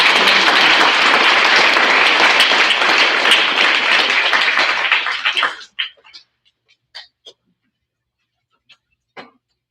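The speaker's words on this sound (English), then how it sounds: "give everybody a round of applause" Dense audience applause at a sixth grade school awards ceremony fills the first half, then fades out into a few scattered claps and small noises.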